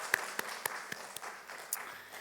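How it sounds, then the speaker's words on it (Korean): Applause from a church congregation at a Friday worship service, sparse and faint, with a handful of distinct separate claps spaced out over a couple of seconds. "우리 격려의 박수를 한번 보내주면 참 좋겠습니다."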